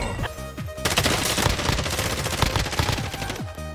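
Gunfire in a shooter video game, with a dense, loud stretch of rapid shots and crackling bursts filling most of the clip, heard without talking.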